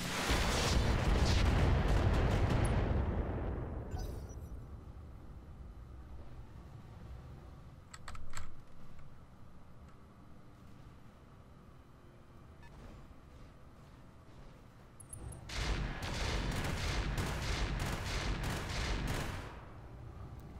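Missile volleys fired from mechs in the video game Roguetech, a loud rumbling barrage that opens the moment and fades away, then after a quiet lull with a brief burst, a second heavy rolling salvo erupts and holds for several seconds.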